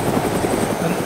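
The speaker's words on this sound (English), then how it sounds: "The helicopter crushed me." A helicopter in the video game DayZ gives a loud, close rotor thump that chops steadily through the whole short moment, with no talk over it.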